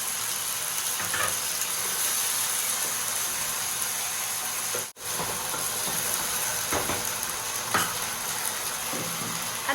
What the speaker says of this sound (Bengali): এখন আমি কাঁচা লঙ্কা আর এই টমেটোর পেস্টটা দিয়ে দিলাম।